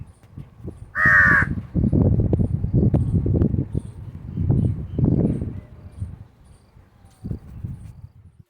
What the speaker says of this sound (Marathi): इथे सकाळी सकाळी ना मस्त असा हा कावळा बसलेला दिसला